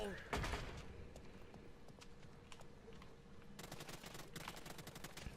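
Gunfire in the video game Realm Royale as a player shoots an enemy, quick bursts of rapid shots, the densest burst near the end, under a player's ongoing speech.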